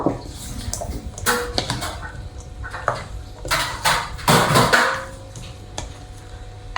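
Sliced fried tofu is tossed into fruit rojak in a bowl, giving irregular clinks and scrapes of a utensil against the dish with soft wet shuffling between.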